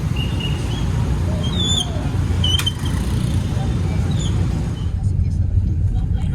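Steady city road traffic in Cebu City, Philippines, heard from inside a taxi: a continuous low engine and road rumble with faint horn-like tones and a brief sharp click midway, the hum thinning slightly near the end.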